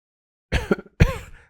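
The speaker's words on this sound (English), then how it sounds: "coughed violently" Two harsh, forceful coughs close to the listener, one broken burst followed by a longer rasping one, with no talking.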